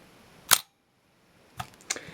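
Minolta SRT 201 35mm SLR camera firing: one sharp shutter and mirror clack, a pause, then two quicker mechanical clicks as the mirror cycles, close and clear in a quiet room.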